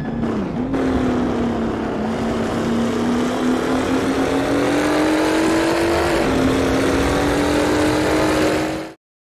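A classic Formula 1 racing car engine in a driving game roars steadily at high revs, pitch climbing slowly with a gear shift midway, loud and close until it cuts out abruptly.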